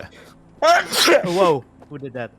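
A single sharp sneeze bursts out during a casual voice chat among friends playing Factorio, quickly followed by nearby talking.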